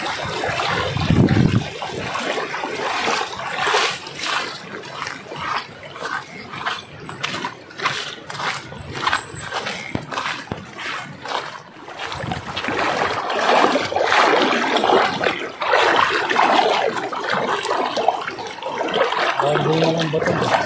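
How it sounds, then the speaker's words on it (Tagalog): Shallow flood water rushes in a strong current, a continuous loud churning and splashing wash with a few brief faint sounds from outdoors over it. "Hindi malalim ang baha dito kaso malakas ang agos."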